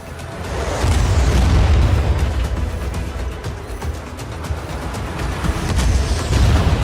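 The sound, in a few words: bomber attack explosions in video game Just Cause 4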